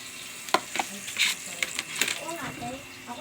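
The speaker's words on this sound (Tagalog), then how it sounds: "Magigisa tayo ng kabuti. Mushroom ng saging." Banana mushrooms sauté in a pan with a steady sizzle, broken by quick scraping and clinking strokes of a utensil stirring against the metal.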